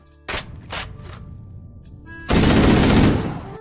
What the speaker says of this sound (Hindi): और कुछ इस तरीके से फायरिंग की